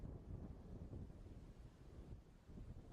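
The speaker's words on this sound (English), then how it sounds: "there's a lot of wind" Strong wind gusts across the microphone at an outdoor baseball field on a summer night, a low, rumbling, buffeting roar that swells and eases throughout, with no talking.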